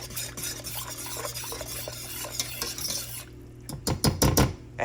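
A sauce seasoned with about a quarter teaspoon of spice is whisked briskly in a pan, rapid metallic scraping and rattling up close, ending in a few sharper, louder clanks.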